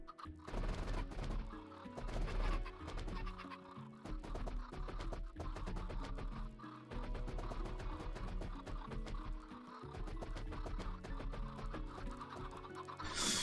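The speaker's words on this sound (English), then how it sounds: "if I lob some chickens in there" Chickens cluck and squawk in the video game Minecraft, a steady, busy flurry of sharp, overlapping bird calls running throughout at moderate loudness with no talking.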